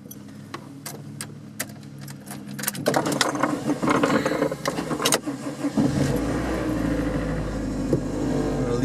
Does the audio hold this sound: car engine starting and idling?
yes